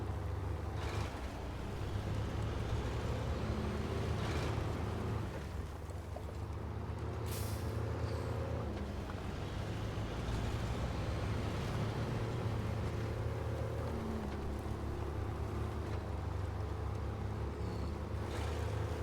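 A heavily loaded truck engine labors and drones steadily as it struggles through deep mud in the SnowRunner video game, a continuous loud low rumble with rising strain throughout and no talking.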